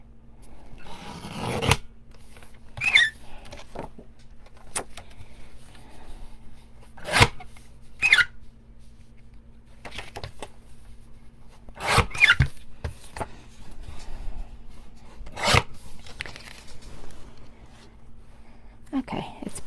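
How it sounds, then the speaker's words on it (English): Scissors cutting out a paper greeting card come in several separate sharp snips and rasping strokes spread across the stretch, close and moderately loud against a low steady hum. "So, okay, so the Hanukah, I'm just gonna cut it out."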